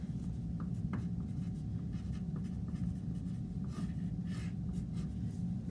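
Pencil or pen scratches steadily across paper while marking the metrical feet of a poem, a close, continuous soft scraping with small strokes and taps throughout, with no talking.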